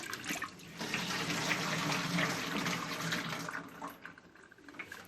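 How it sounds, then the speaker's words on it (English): Water drains from a pulled plug hole in an allotment shed sink and flows into a container below, a steady close rushing trickle that tapers off, with no talking. "we'll pull that plug out with that little drop of water, and it should flow into this container"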